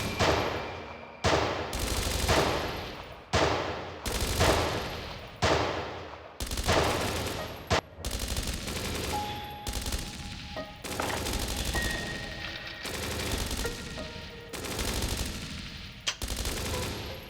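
Gunfire in the video game Dreams of Another: loud, rapid bursts of automatic fire repeat back to back, with only brief gaps between volleys.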